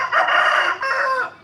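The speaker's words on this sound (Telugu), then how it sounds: "చూడండి కోళ్ళు అరుస్తున్నాయి" Chickens at a house, a rooster crowing in two drawn-out calls with clucking mixed in, loud and close, with no talk.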